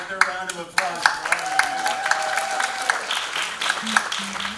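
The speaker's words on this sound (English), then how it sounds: "Another round of applause for" A poetry summit audience claps steadily for a few seconds, moderately loud, with a voice speaking over the applause.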